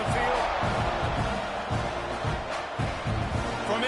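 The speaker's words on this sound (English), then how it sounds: "You think this crowd's going to get loud when their defense comes on the field?" A stadium crowd roars without a break in a football video game, a dense, loud wall of noise with rhythmic thumping pulses underneath. Commentary voices run over the crowd.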